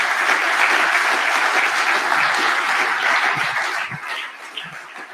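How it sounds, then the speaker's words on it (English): Audience applause at a castle talk series in Heidelberg, a dense, steady roar of many hands close up that thins and fades out toward the end, with no voices over it. "da darf man mal applaudieren"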